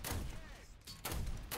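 A 37mm autocannon on an anti-aircraft vehicle in War Thunder fires two heavy, booming shots about a second apart, close and loud, with a faint voice underneath.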